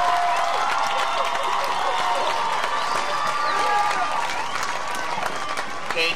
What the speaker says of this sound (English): I'd like you to applaud your family and friends